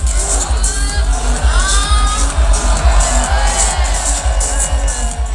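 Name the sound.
crowd countdown and applause at bike race start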